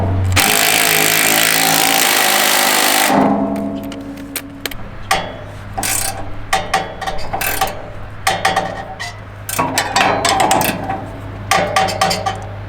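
A power tool drives bolts into new shocks on a Simplicity Prestige riding mower: a loud, harsh burst of about three seconds, then scattered metallic clanks and knocks of tools on the mower frame.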